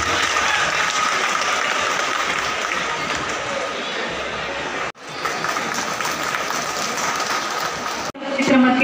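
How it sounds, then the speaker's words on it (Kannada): A college fest crowd applauds loudly and steadily, a dense wash of clapping that runs continuously and pauses for a moment near the end before picking up again. "ಎಲ್ಲರೂ ಜೋರಾಗಿ ಚಪ್ಪಾಳೆಯನ್ನ ತಟ್ಟಬೇಕಾಗಿ ವಿನಂತಿ"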